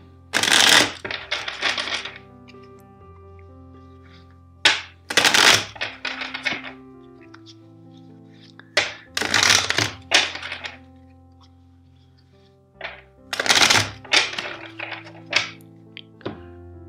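Tarot cards being shuffled in several bursts of riffling and tapping, close and fairly quiet, separated by brief pauses, with no talking.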